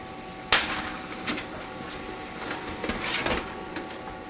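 An HP LaserJet MFP M234sdw prints a page on both sides. A sharp mechanical clunk opens the sound, followed by whirring paper-feed rumbles and a second louder surge of rolling motion a few seconds later. The printer is close, and no one speaks.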